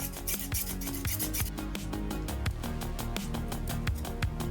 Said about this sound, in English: I'm going to file them down to something smoother.